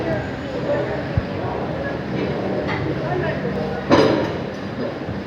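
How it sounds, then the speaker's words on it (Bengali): A train pulls out of Kalka station, a steady broadband rumble of running cars with a brief clank partway through, heard close from on board. "আমাদের ট্রেন এখানে কালকা স্টেশন থেকে রওনা দিয়েছে।"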